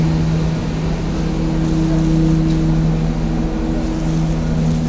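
Diesel engine running nearby, likened to a train, with a steady loud low rumble and droning hum that holds constant throughout, no voices present.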